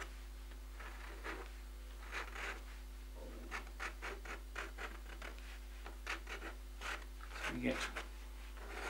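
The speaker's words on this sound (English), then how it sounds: "Because I'm using a rough surface paper, I'm going to use a credit card to create some texture on the rocks." A plastic card scrapes watercolour paint across rough-surface paper to texture painted rocks, giving faint repeated scratchy strokes in short bursts over a steady low hum.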